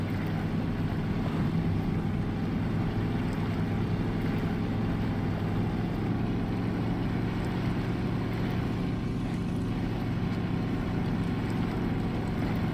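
A modded truck engine in SnowRunner pushing through mud in high gear, a steady, dense, continuous rumble with no breaks, loud throughout.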